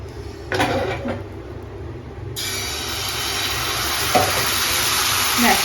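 Thin pitha batter poured straight into a hot pan: after a few soft knocks, a loud steady sizzle bursts in and continues hissing, close up, with occasional light scrapes and no talking.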